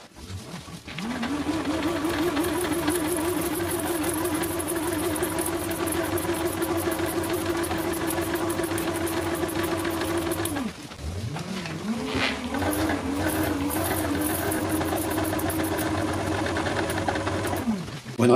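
Spin bike flywheel driven by pedalling to charge a battery, giving a steady mechanical whir that rises, holds, briefly drops and then spins up again, close and continuous.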